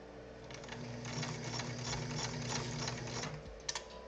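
A sewing machine top-stitches fabric with a steady, rapid mechanical whir of close stitching that stops briefly near the end and then gives a few last clicks.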